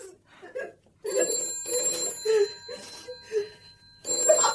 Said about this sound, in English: Answer the damn phone!